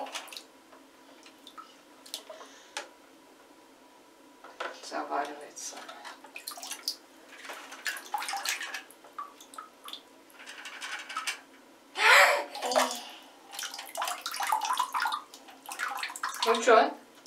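Water splashing in a bathtub as toys are played with, irregular bursts of splashes and drips rising and falling, with a child and an adult talking and making sounds over it.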